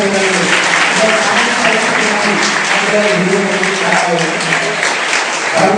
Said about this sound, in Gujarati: તાળીઓના ગણગણાટથી વધાવીએ